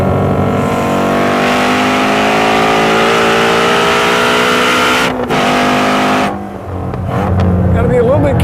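A Ford Mustang Shelby GT350 holds third gear through a corner with a loud, steady exhaust roar. The roar sustains, drops briefly near the end, then returns, and engine harmonics shift with the revs.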